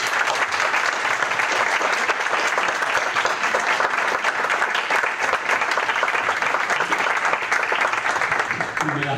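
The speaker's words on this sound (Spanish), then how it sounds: "Dediquémosle un aplauso a Pepe." An audience at a gathering gives a long, loud, dense round of applause for a man named Pepe, with the clapping holding steady throughout.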